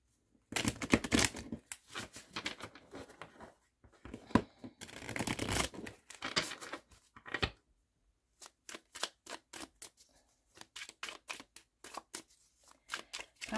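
Tarot cards are shuffled in quick bursts of riffling and snapping, with pauses between, then a rapid run of crisp flicks; close and fairly quiet with no speech.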